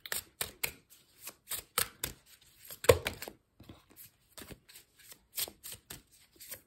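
Oracle cards are shuffled by hand in a string of crisp, papery riffles and slaps, each burst short and close, spaced irregularly with brief quiet gaps between them and no talk.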